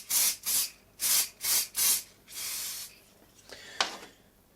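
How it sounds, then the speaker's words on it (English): Five short hissing bursts of silicone lubricant spray from an aerosol can in quick succession, then a longer spray and a brief final puff, close and crisp. "what I'm going to do first is just give it a spray with a silicone based lubricant"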